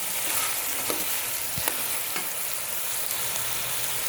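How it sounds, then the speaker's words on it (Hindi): Steady sizzling and crackling of meat with ginger and green chilli paste frying in a hot pan for chicken karahi, with a few soft stirring scrapes, close and continuous, no talking. "इसे हम अच्छी तरह भूनेंगे।"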